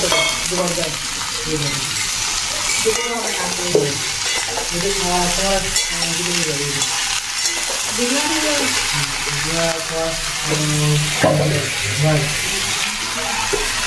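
Prawns and cut taro stolons frying in hot oil, a steady loud sizzle and crackle throughout, with someone talking over it.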